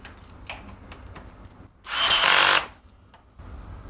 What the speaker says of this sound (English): we're now going to put screws into all of the foot plates on the other parts